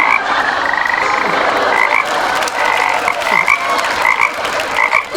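Frogs croak densely in a jungle at night, a continuous chorus of rapid, repeated calls filling the whole stretch at close-to-moderate distance, with no voices over them.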